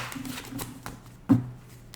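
Tarot cards shuffled by hand, a few soft riffling flutters ending in one sharper slap as the deck settles, close and fairly quiet.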